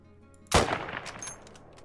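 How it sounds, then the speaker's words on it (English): A single Mosin rifle shot rings out in the hunting game Call of the Wild, a sharp loud blast followed by a rolling echo that fades over about a second. "The accuracy on the long-range shooting of the Mosin is just insane."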